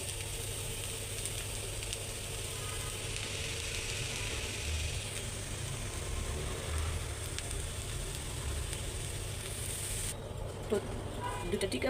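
Tikia patties frying in a pan in a home kitchen, a steady broadband sizzle running throughout at moderate level with faint clatter near the end.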